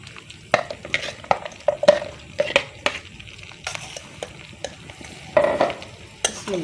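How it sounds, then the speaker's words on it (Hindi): Okra fries in ghee with a soft continuous sizzle, punctuated by irregular scraping and clinking strokes of a spoon against the pan, close up and without speech. "पहले हमने इसके अंदर 2 चम्मच घी डाला भिंडियों को भूनने के लिए।"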